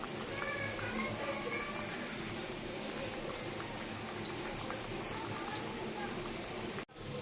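A pot of fish curry bubbles and simmers in a steady, close, constant wash of boiling noise, with a brief clunk near the end.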